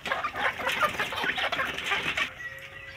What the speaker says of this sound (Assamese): এয়া লোকেল মুৰ্গীকো মই খাদ্য দিছোঁ, সিহঁতে খাদ্য খাই আছে।